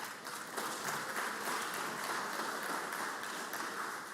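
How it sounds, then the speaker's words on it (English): Applause on the Mississippi Senate floor, a steady round of many hands clapping, fairly distant and even, with no speech over it. "Let's give them another round of applause."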